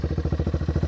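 A Yamaha TTR230 dirt bike engine idles up close with the choke off, a rapid, steady low putter with even pulses and a faint rattle, no voices.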